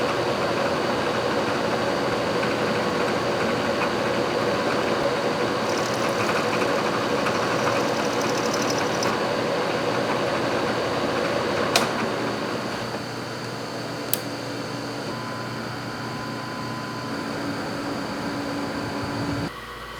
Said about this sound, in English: I'm out here on the Bridgeport mill to make a quick cross section in this brass part